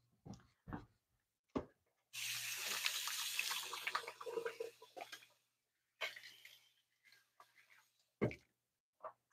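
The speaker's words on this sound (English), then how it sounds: "Let me wash my hands" Tap water runs into a kitchen sink as hands are washed mid-bake, a steady close splashing stream for about four seconds, then a second shorter burst, with small clatters around it.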